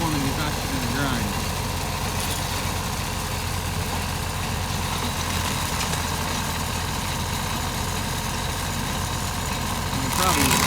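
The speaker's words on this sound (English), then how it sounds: "Nice thing about a diesel is you don't have to run the engine up a whole lot." A diesel stump grinder idles steadily at low revs while removing stumps along a property line, with a continuous low rumble and faint voices in the background.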